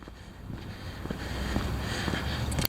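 Heavy wind gusts buffet the microphone in a steady, rising roar, with a low rumbling rush that grows louder toward the end.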